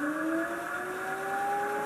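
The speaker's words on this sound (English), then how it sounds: "So you can hear the motor turning there as I throttle up." The electric motor of a BMW EV conversion whines steadily as the throttle increases, its pitch sliding gradually upward over about two seconds, close and clean with a faint background hiss.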